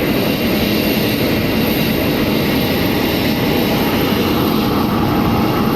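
An aircraft engine roars steadily at Jeddah airport at night. The dense, loud and unbroken noise sounds close by and fills the whole stretch, with no voices.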